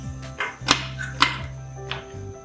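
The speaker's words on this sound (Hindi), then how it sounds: "अब मैं कुकर बंद करने लगी हूँ" A pressure cooker lid is closed during a mutton stew, giving a few sharp metallic clicks and clanks close by over a steady low hum.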